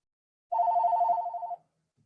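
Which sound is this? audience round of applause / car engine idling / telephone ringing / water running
telephone ringing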